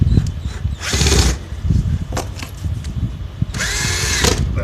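Two bursts of a whirring power drill spinning up and driving screws into a shipping crate, separated by quieter clattering and handling noise.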